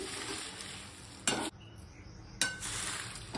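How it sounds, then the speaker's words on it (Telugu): Dried curry leaves stirred in a hot pan after the stove is turned off, giving a soft, dry rustling sizzle with two short, sharper bursts of stirring scrapes, close and quiet. "కరివేపాకు కూడా మొత్తము ఇలా వేసేసుకుందాం. వేసి బాగా కలుపుదాం."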